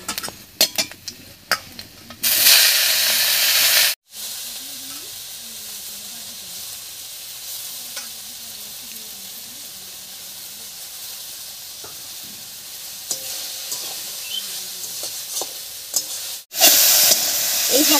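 Chopped sour amrul greens hitting hot oil in a wok, a loud hissing burst at first that settles into a steady sizzle with occasional stirring scrapes, then flares loud again near the end.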